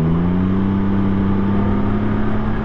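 A 2023 Can-Am Ryker 900 three-wheeler accelerates hard, its engine note rising steadily in pitch as it pulls, close and loud with steady wind rumble and no talking.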